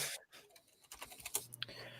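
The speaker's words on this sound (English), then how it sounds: "I hear someone typing." Rapid keystrokes clatter on a computer keyboard, sharp clicks coming in quick uneven bursts at close range with no one speaking.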